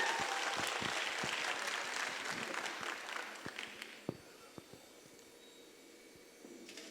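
Applause from an audience for the speaker at a direct selling network marketing event, a burst of clapping that fades after a few seconds, leaving scattered single claps in a quieter room.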